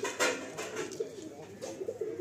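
Madrasi pigeons coo softly and repeatedly close by, low throaty calls overlapping in a gentle murmur with faint rustling.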